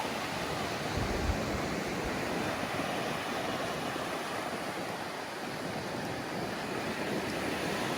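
Ocean surf washes steadily onto a beach, a dense continuous roar of breaking waves with wind rumbling across the microphone, with no pause and no voices.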